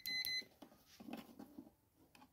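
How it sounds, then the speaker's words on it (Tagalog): Continuity beeps from a multimeter testing a rice cooker's thermal fuse, a few short, bright tones at the start followed by quieter handling noise of the probes. "naka-continuity ulit ako yung may beep"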